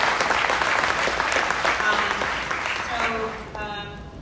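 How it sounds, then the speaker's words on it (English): Audience applause from a crowd at a long-running awards broadcast event, a steady wash of clapping that gradually thins and fades toward the end. "So we got a round of applause."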